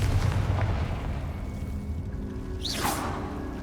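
Confringo explosive spell cast in Hogwarts Legacy: a rushing whoosh followed by a fiery burst and rumbling boom amid ongoing combat noise, with a bright swishing flare near the end.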